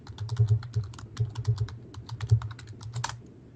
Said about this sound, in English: I can type said quote in Skype